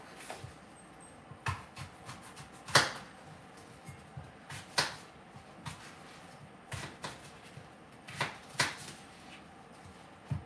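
A knife cuts up an apple for juicing, giving irregular crisp chops and slices against a board, close and fairly quiet, with small handling noises in between.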